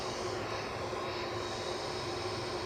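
An EasyJet airliner rolls for takeoff from Edinburgh Airport, bound for Copenhagen: a steady broadband engine roar with a faint high whine, sustained and fairly distant, no voices.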